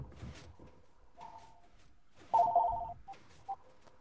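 A phone rings during an indoor recording session, a few short warbling bursts repeating across the moment, moderately loud and close, with brief noises between rings.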